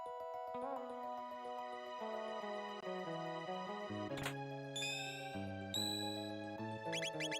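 Bright phone notification chime, a sequence of clear ringing tones and tinkling dings layered over steady melodic background music.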